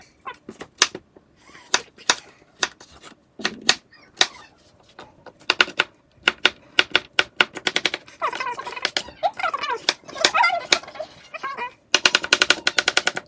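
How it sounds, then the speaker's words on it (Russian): A knife dices tomatoes and cucumbers on a board, crisp close chops in irregular runs and quick rattling bursts, with short gaps between. "Помидоры и огурцы нарезаем тоже кубиками."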